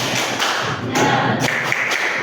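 A group claps hands together in a quick, rhythmic pattern, loud and close, the claps blending into a dense burst.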